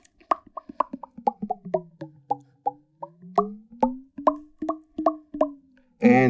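A Moog 12-stage phaser set to high resonance filters a plucked, bouncy sequence, each note ringing with a watery, sweeping comb-filter tone that glides in pitch, clear and alone.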